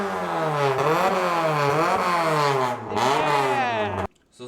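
A Honda Civic built in Kanjo street-racing style revving hard through its exhaust, the engine note rising and dipping repeatedly in loud, raspy sweeps before cutting off abruptly near the end.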